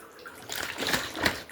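Water sloshing and splashing inside a plastic bottle as it is tipped and turned while separating ghee at home, a short close wet swirl that swells midway and stays loud to the end, with no talking.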